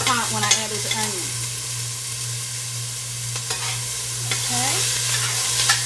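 Onions and vegetables sizzling and being stirred in a hot pan, a steady close frying hiss with scraping stirs, accompanied by a low constant hum and a few brief spoken words.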